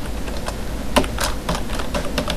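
Close computer keyboard typing while writing C++ code, a quick run of crisp clacking keystrokes with one sharper hit early on, no speech.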